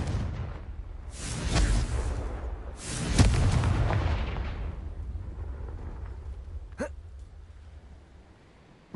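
Booming spell explosions in a Harry Potter video game on PS4, two heavy blasts rumbling out one after another, followed by a sharp crack near the end, with no talking.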